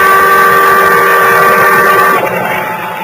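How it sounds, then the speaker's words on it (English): A loud, steady boat siren blares with a harsh tonal drone, holding for about two seconds before cutting off, leaving a rumbling engine-like wash behind. "The boat siren, crying its warning, drowned out my shouts."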